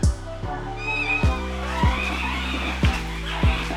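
A cat meows in a home kitchen where Jaffna-style spicy cuttlefish and fried rice are being cooked, its calls rising and falling over a recurring low thumping, close and moderately loud.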